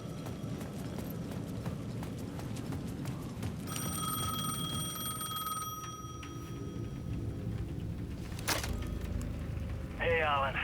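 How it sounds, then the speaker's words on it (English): A payphone rings in the video game Alan Wake II, bursts of bright ringing tone sounding against a busy, noisy game ambience with a sharp jangle near the end. "The payphone at the edge of the plaza was ringing again."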